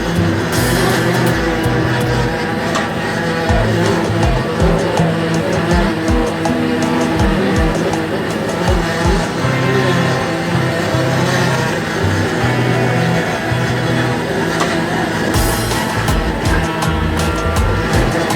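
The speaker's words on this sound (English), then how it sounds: "The sound of the engine mixed with the sound of the waves." A small anchovy fishing boat's engine drones steadily at sea at dawn, loud and continuous, with wave and water wash mixed in throughout.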